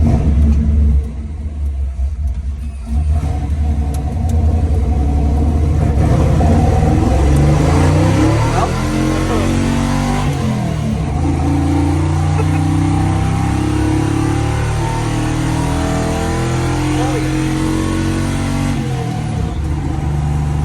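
A 1967-1972 Chevrolet C10 squarebody pickup cruising on a highway at about 60-65 mph and only 1900 RPM: a loud, continuous engine drone and road rumble from inside the cab, its pitch gently rising and falling, with no voices.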